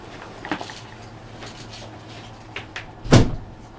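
A door shuts with a single solid thud near the end, after a few faint knocks and shuffles against a low background hum.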